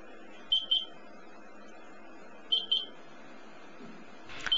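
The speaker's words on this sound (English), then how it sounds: "The timer will count down to zero and a beeper will sound for 2 minutes." A Minute Minder stove timer beeps in two quick pairs of short, high electronic chirps about two seconds apart, faint against a quiet hum, with a soft sound rising at the end.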